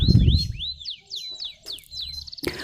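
Male and female canaries during mating give a run of bright rising and falling chirps and whistled notes, fairly close, with some low rustling at the start and a short burst of noise near the end.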